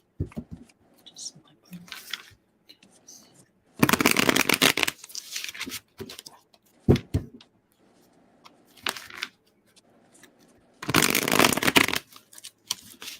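Stiff tarot cards being shuffled in several bursts of riffling and crinkling, close and fairly loud, with quiet talk heard between the bursts.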